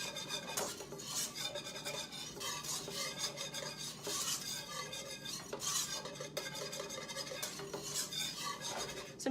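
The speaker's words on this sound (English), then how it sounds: "I'm just gonna switch to a whisk to try and get out some of these lumps from the cream cheese" A whisk works cream cheese in a bowl to break up lumps, a quiet continuous scraping and tapping against the bowl with irregular strokes, close and faint, no talking.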